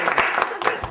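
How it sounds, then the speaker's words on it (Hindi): Studio audience applause breaks out briefly during a Pakistani comedy stage show, a short, dense burst of clapping from a crowd. "तालिया।"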